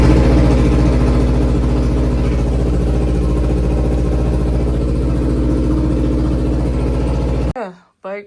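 A repaired 300 motorbike engine running steadily at idle, a loud close rumble with fine rhythmic clatter that continues evenly, then stops abruptly, followed by a brief voice.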